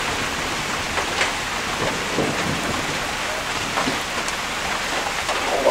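Heavy rain pours steadily on surfaces, with low rumbles of thunder rolling beneath the dense, continuous downpour.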